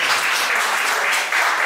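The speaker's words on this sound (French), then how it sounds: "On applaudit pour monsieur" An audience at an entrepreneurial pitch event applauds in a steady, dense burst of clapping that lasts under two seconds, fairly close and heard on its own.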